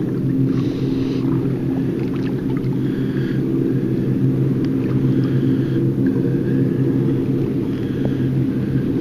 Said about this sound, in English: Small boats, big engines